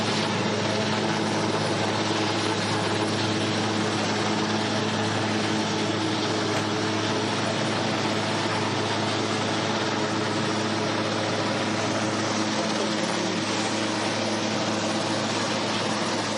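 Steady, loud rotor and engine drone of firefighting helicopters and water bomber aircraft, including Canadair and Dash planes, overhead during a wildfire in Aude, France; a continuous roar with no pauses and no talking.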